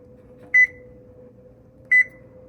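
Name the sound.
oven timer beeping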